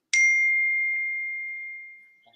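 A single bright phone notification ding strikes sharply and rings out in a clean, slowly fading tone for about two seconds, alone in an otherwise quiet room.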